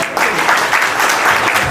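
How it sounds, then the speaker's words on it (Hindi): Wedding guests break into loud, sustained applause, a thick wall of clapping from a crowd heard close and steady, with some voices beneath it. "जोरदार ताली बजाएंगे।"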